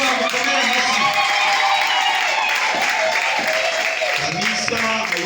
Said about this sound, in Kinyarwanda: Ndayifuza ko bamukomera amashyi.